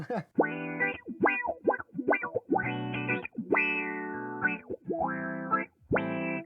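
A guitar played through a Mojo Hand FX Little Wonder pedal gives a rubbery, bending wow effect on a driven tone, in a run of sustained phrases with short gaps between them.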